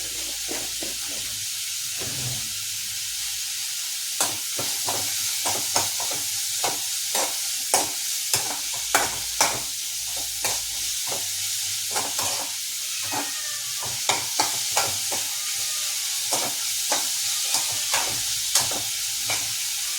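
Sliced onions frying with a little added sugar in a pan, a steady close sizzle punctuated by repeated sharp scraping and stirring clacks, no voices.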